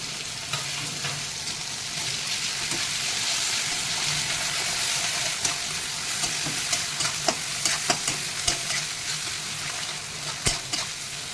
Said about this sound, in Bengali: রসুনটা তেলের উপরে দিয়ে দেবো